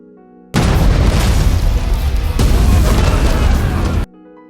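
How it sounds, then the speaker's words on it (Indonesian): A bomb trap detonating in an action film, a loud sustained roaring blast that erupts suddenly, rumbles on for several seconds with a second surge, then cuts back to a quiet musical bed. "memicu jebakan bom, menghantam sebagian besar musuh"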